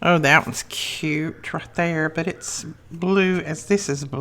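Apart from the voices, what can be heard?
None of the usual background noises is heard.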